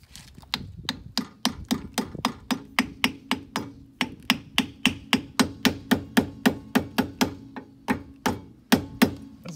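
Rapid hammer taps seating a new dust cap onto the rear wheel hub of a 2002 Ford Focus ZX3, a steady run of about thirty sharp metallic strikes, close and loud, with short pauses.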